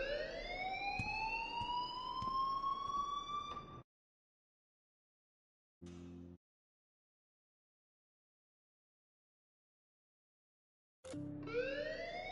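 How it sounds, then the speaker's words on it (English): A rising, wailing alarm sounds in a video game, then cuts to silence, with two short bursts of it returning after the gaps, loud and without talk. "please turn off that alarm since that's your job"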